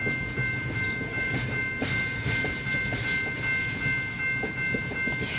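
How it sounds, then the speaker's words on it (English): Steady rumble and rhythmic clatter of a single-locomotive freight train rolling past at moderate distance near Titusville, Pennsylvania, with a faint continuous whine overhead. "one engine freight train"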